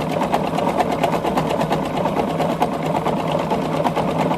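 A domestic sewing machine stands in for a Juki and works a blanket stitch along the edge of a quilt, its fast, even needle chatter running steadily and fairly loud throughout.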